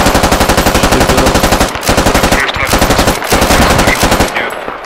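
Rapid, sustained machine gun fire in the shooter game Squad, loud and close, in long bursts with brief pauses between them.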